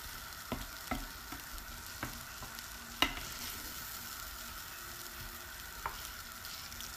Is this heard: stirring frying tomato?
yes